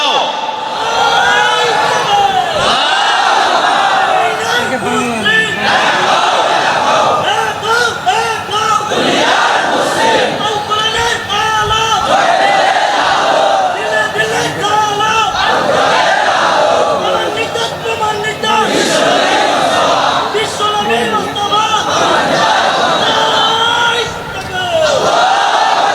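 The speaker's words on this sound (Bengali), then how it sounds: "জোরে তাকবীর দাও" A large crowd at an outdoor Islamic sermon loudly chanting the takbir in unison, repeated surging shouts that fill the air continuously over roughly half a minute.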